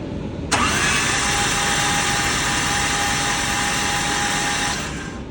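A 1JZ engine in a Nissan S14 Kouki cranks briefly, then catches and settles into a loud, steady idle with a high whine, running close and alone before cutting off.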